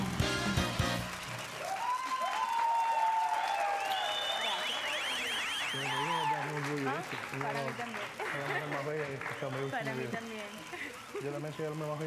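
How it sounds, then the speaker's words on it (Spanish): Audience applause for a singer at a live show, a steady wash of clapping that fills the scene while music and voices sound over it. "Y que siga ese aplauso para mi gran amigo"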